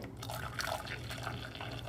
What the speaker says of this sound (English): Just adding some water from the kettle to make it boil faster.